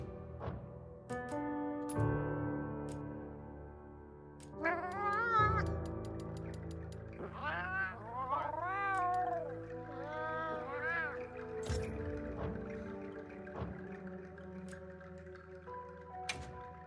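Cat companion in the video game Monster Hunter Wilds letting out several rising, wavering meows over game music and ambience, with a person talking at times.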